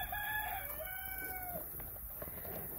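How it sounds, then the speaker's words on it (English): A rooster crows once, long and fairly faint, outdoors on a farm, followed by soft scattered clucking from chickens grazing in grass and mud. "We let the chickens out, so they're grazing in some grass and bugs, playing in mud puddles"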